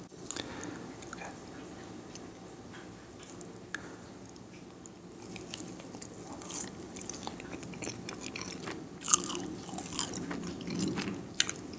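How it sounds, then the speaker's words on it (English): Someone bites and chews the crust of a pepperoni pizza up close, giving soft crunches and moist chewing. Quiet stretches sit between louder bites, and a sharp crunch comes near the end. "maybe we'll get some crunchy sounds from the crust"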